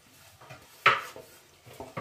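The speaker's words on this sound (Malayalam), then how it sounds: "നല്ലപോലെ മിക്സ് ചെയ്ത് കൊടുക്കാം കേട്ടോ" A spoon clinks and scrapes inside a pot as spices are stirred into chicken curry, a few soft knocks and one sharper metallic clink, close and fairly quiet with no talking.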